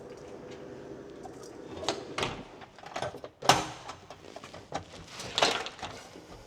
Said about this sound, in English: I want to close this door.